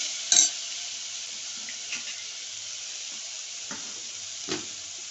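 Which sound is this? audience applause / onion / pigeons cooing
onion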